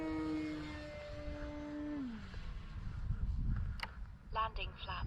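An E-flite Carbon Z Cessna 150 RC bush plane flies overhead, its electric motor whine sliding down in pitch as it passes, then fading into wind noise, with brief voices near the end.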